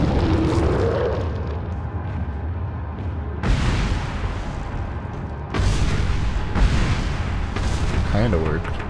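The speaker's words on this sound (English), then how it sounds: "Throw a grenade." Grenade explosions in Resident Evil gameplay: a dense, rumbling low-end boom that swells at about 3.5 s and again near 5.5 s, sustained and loud, with a voice talking over the blasts.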